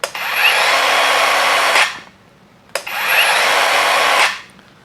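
A Dongcheng cordless brushless circular saw spins up twice with a soft start, each run ramping into a loud, steady high whine for under two seconds before winding down, with a short pause between.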